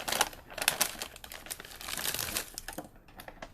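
Thin plastic wrapping inside a cardboard box of Jeju chocolates crinkles and crackles in quick, close bursts, steady throughout with brief louder crackles.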